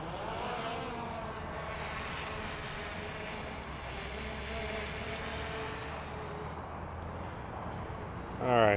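An FPV drone's motors throttling up at takeoff, a steady buzzing whine with shifting pitch under nearby talk, ending with a louder burst.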